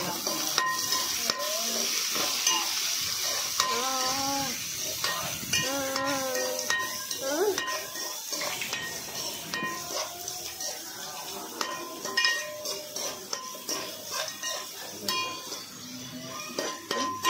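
Onions and green chillies fry in a pan while a spoon stirs them, giving a bright continuous sizzle with repeated scraping and clinks against the metal. A voice speaks briefly over it.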